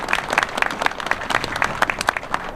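An audience at a city meeting breaks into applause, a steady patter of many hands clapping close by for a few seconds with no talking over it.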